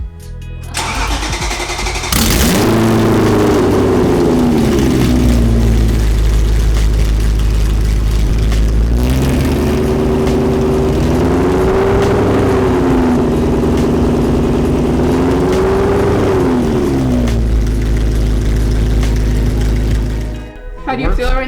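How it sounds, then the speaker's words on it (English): A V8-swapped BMW 1M starts and revs hard in two long, sustained pulls, each rising and holding before dropping back to a loud, close idle. "rev for like 5 seconds"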